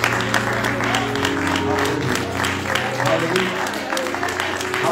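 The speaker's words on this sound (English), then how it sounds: "Clap your hands for your freedom." A church congregation claps hands together during a Sunday service, a dense steady clapping that runs throughout, mixed with voices, sustained tones and music underneath.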